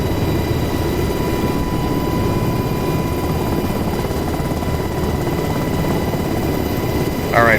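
A helicopter in the DCS World 2.7 flight simulator, flying over the Persian Gulf map as it comes in to land, gives a loud, steady rotor and engine drone throughout, with a short electronic chirp at the very end.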